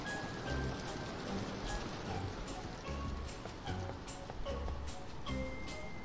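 Rain patters steadily in the rainy room of the Roblox DOORS game, a soft even hiss with scattered drop taps and a voice talking over it.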